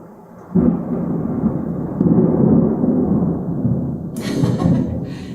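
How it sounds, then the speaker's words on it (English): Thunder during a thunderstorm: a sudden deep rumbling roll that swells and lingers for several seconds, loud and low, with a brighter crackle near the end. "It's thunderstorming today."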